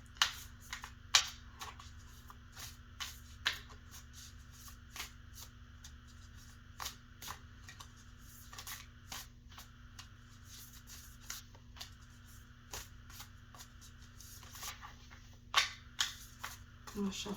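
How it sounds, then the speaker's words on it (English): Tarot cards shuffled right beside the microphone in a quiet room, a series of crisp riffling snaps and soft slides arriving irregularly every second or so over a low steady hum. "If you guys like me shuffling up close like this for you, let me know."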